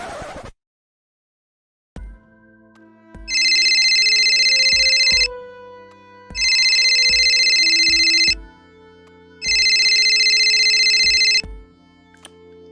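A telephone rings with an electronic ringtone in three long bursts, preceded by a soft, steady dial-tone-like hum and periodic clicks, loud and close with no speech.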